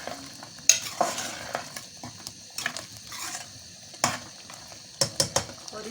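A spoon stirs bhindi gosht curry in a pot after salt and curry masala go in, with the food sizzling as it fries. Scraping strokes come in irregular bursts over a soft, steady sizzle.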